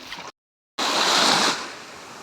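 Sea waves washing up on the beach at Manao Bay in Prachuap, a rushing surge of surf after a brief dropout, swelling then easing.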